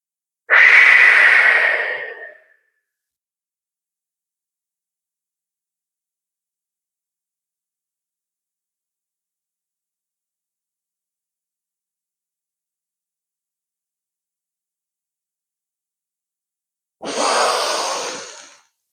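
Two long, breathy exhalations during a yoga breathing exercise, each a couple of seconds, heard close and alone, separated by a long silent breath hold.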